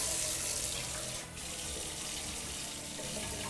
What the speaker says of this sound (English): So turn the water back on.